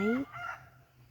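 A short hen vocalization opens the clip, with a fainter follow-up call shortly after, then quiet outdoor ambience in a durian orchard.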